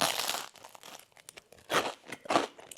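Loud, close crunching bites into hard, untoasted bread: a long crackly chew, then two sharp, distinct crunches with brief pauses between them.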